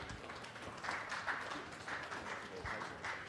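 Audience applause at a fighter's weigh-in, a steady crowd clapping that swells after the first second and holds loud and continuous under a busy room ambience.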